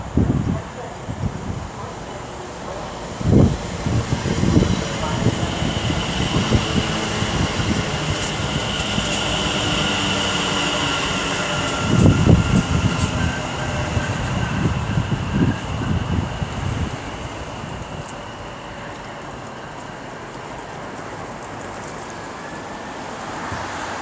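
A West Midlands Railway train runs at Sandwell & Dudley station on the West Coast Main Line, a steady rumbling drone with occasional clunks and a brief surge, moderately close amid station ambience.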